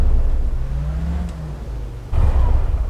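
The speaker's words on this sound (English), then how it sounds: "Once you turn the car on" A stock four-wheel-drive car in the City Car Driving video game starts up with a low rumble and a rising whine, then swells suddenly into a louder rev near the end.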